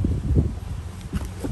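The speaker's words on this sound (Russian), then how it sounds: "Еще и ветер." Wind blows outdoors at the Novgorod Kremlin, buffeting the microphone with a steady, loud low rumble that lasts the whole moment.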